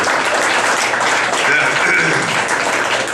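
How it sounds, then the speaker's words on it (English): Audience applausing comedians at a comedy show, a dense, steady wash of many hands clapping at close range, holding at full level throughout with murmured voices mixed in. "Give them a round of applause."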